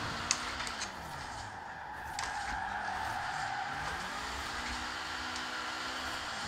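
A car drifting in Forza Horizon 4 gives a steady engine drone with sweeping pitch changes and tyre-skid noise throughout, moderately loud and with no talking.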